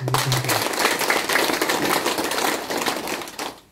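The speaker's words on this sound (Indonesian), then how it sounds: "Mari kita berikan aplaus dulu." Villagers in Desa Napan applaud the regent at a road-building outreach gathering, with dense, continuous clapping from a crowd that fills the whole stretch and fades near the end.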